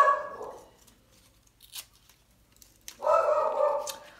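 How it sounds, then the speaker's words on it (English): A pet dog barks indoors in a short burst, then falls quiet for a couple of seconds before letting out a louder, longer run of sharp barks close by. "my dog sees something that she doesn't like."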